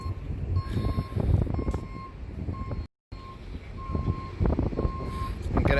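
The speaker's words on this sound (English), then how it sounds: "The noise you're hearing is the police officer backing over their own zip ties" A police vehicle backing up gives steady, evenly spaced reversing beeps over engine rumble and wind noise outdoors at a street protest, with a brief dropout midway.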